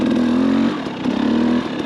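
A Lectron Billetron Pro electric dirt bike accelerating in second gear, a loud close motor whine that surges, dips briefly and rises again over under two seconds, with no talk.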